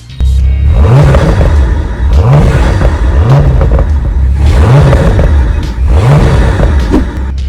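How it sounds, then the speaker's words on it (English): A Bentley Continental GT Speed's twin-turbo W12 engine revs repeatedly, rising in pitch with each of four loud surges before dropping back, close and continuous. "hides a beefy twin-turbo W12 under the hood that"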